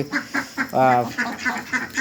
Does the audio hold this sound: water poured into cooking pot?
no